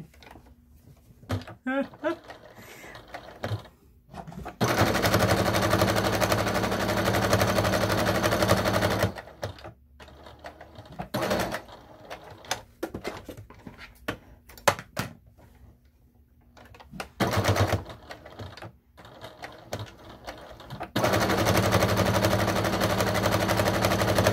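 Sewing machine running in long bursts while stitching down the long sides of fleece hat pieces, a steady loud mechanical whir that starts and stops, with pauses and quieter handling between runs and talk over some parts.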